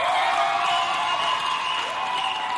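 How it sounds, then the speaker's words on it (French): Audience applause at a 63rd anniversary celebration of the Republic of Chad, a steady wash of clapping and crowd noise that holds at a fairly even level throughout. "Applaudissez pour vous"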